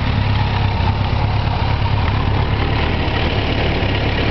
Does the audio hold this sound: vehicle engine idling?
yes